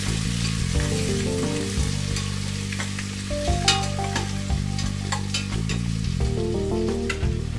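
Two large chopped onions sizzle and crackle steadily in a hot pan for mutton vermicelli biryani, with music playing in the background throughout.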